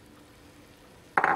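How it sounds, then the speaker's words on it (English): Mushrooms drop into melted butter in a pan, setting off a sudden loud sizzle near the end after a quiet stretch. "we're gonna add our mushrooms."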